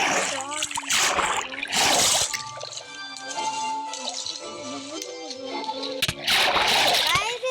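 Loud bursts of water splashing and sloshing come in several rough surges, strongest at the start and end, with people talking over and between the splashes.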